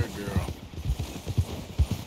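Horse hooves clip-clop at a steady riding gait in Red Dead Redemption 2, a horse with wild-horse traits circling a lake, the beats soft and regular beneath faint background sound.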